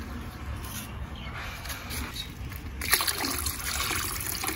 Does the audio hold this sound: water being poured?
yes